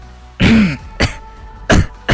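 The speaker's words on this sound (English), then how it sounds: "he was coughing and hacking, but determined to go on" A man coughing and hacking as smoke thickens around him, a harsh throat-clearing rasp followed by three sharp, close coughs spaced about half a second apart, loud against near silence.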